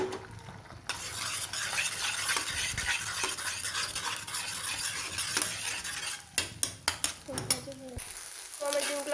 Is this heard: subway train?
no